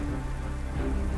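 Steady rainstorm with heavy rain drumming on surfaces, a dense continuous wash of noise throughout the short stretch with no voices.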